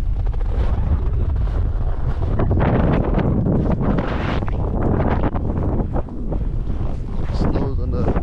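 Strong wind of about 50 km/h on frozen Lake Winnipeg buffeting the microphone with loud, continuous low rumbling gusts, and faint voices partly buried beneath it.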